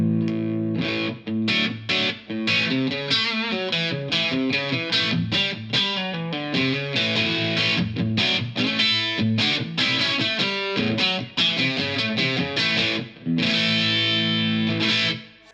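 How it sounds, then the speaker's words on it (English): Blackstar TV-10B valve amp with EL34 power tubes pushed into a crunchy, bright overdriven electric guitar tone, played as loud, continuous rock riffs and chords with only brief gaps and no talking. "that kind of bright EL34, crunchy, it's undeniably Marshall territory"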